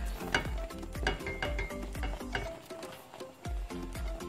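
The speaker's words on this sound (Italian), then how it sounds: "fate bollire alzando la fiamma vivace" Coffee jam boiling over a lively flame in a tall pot, a dense bubbling and sputtering with frequent soft pops and clinks, close and continuous, without talking.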